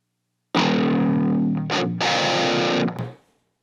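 Heavily distorted electric guitar played through a Quad Cortex amp capture of a PVG series RH Noon tone, a loud sustained chord that briefly stops, then returns with a short choppy stab and another held chord before cutting off.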